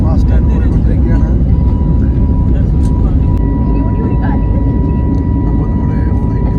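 An airplane moves fast along the ground at Delhi airport, giving a steady, loud engine roar with people talking over it throughout.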